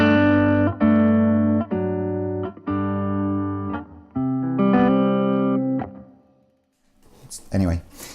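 An electric guitar played through a Vox MV50 amp rings out a series of strummed chords, each sustained then cut, loud and close, followed by a brief lull and a short burst of noisy sound at the end.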